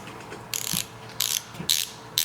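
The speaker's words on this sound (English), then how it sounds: "it actually switches back and forth and ratchets like it should" A Craftsman 3/8-inch drive stubby flex-head ratchet clicking in short, crisp runs of metallic pawl clicks, close and clear, separated by brief pauses.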